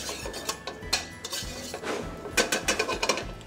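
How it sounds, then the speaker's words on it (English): Roasted butternut squash tipped from a tray into a hot pan, producing close, irregular clattering and scraping clinks of metal and food pieces in quick bursts, with no talking. "I'm now going to take the squash straight from the tray, straight into the pan"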